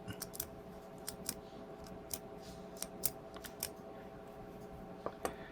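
The click mechanism of a chrome pen kit snaps in sharp, irregular clicks, close but faint, over a quiet background hum.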